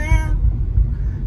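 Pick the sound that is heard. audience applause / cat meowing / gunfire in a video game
cat meowing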